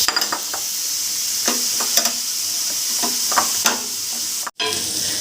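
Onion, ginger, garlic and green chilli sizzle steadily in a pan while a spatula scrapes and stirs in scattered strokes, then a brief dropout near the end.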